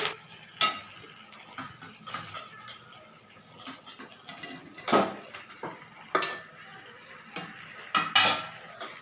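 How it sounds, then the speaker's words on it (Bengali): Chicken with potatoes being stir-cooked in a pot after a cumin and dried chilli tempering with onions, a low sizzle broken by repeated scrapes and clanks of a spoon against the pot, no speech. "এই যে চিকেন কষা হচ্ছে"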